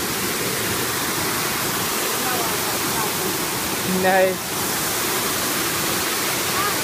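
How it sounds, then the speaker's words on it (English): Steady broadband rush of a forest waterfall fills the whole clip, with a brief exclamation from a voice partway through. "That's a waterfall right there."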